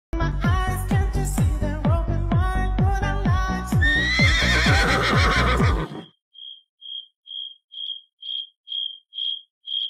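A white horse gives a loud, close whinny, a long rapid series of shaking neighs that cuts off abruptly, followed by a run of evenly spaced electronic beeps growing slightly louder.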